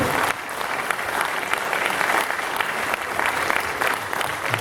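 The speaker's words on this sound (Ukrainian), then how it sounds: "Давайте аплодисментами підтримуємо наших мужніх вояків." A crowd applauds soldiers at an awards ceremony in Busk, dense steady clapping that holds evenly for several seconds at moderate loudness, with no voices standing out.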